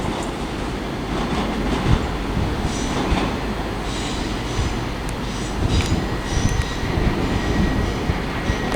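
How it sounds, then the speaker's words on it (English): A ScotRail passenger train passes through Haymarket station in Edinburgh, a loud continuous rumble of wheels on rail with faint squeals and clicks throughout, heard up close. "Now there's the 1629 ScotRail service to Glasgow Central via Shotts from Edinburgh."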